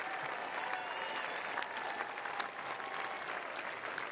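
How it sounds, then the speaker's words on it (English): Wimbledon tennis crowd applauding player Nick Kyrgios, a dense, steady wash of clapping that holds evenly throughout, loud and continuous without breaks. "Give him another round of applause, ladies and gentlemen."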